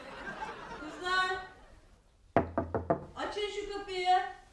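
A fist pounds rapidly on a locked door four or five times in a tight, loud burst, set between stretches of talking and laughter from people in the room.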